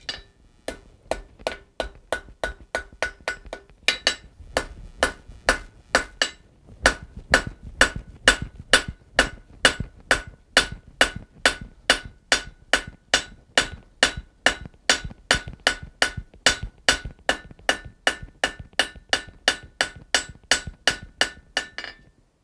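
Blacksmith's hammer striking hot steel on an anvil while forging a three-sided scarf taper for a forge weld, a long steady run of loud, evenly spaced ringing blows that speed up slightly after the first few seconds, with no talk.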